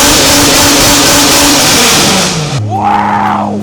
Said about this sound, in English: I'm just gonna give it some revs so that the car doesn't die.